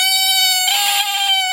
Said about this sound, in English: Have you ever heard a frog meow like a cat?